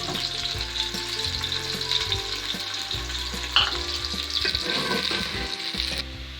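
Sliced onions for kadhi pakora sizzle steadily in hot oil, a continuous crackling fry with occasional stirring scrapes, close and fairly loud throughout.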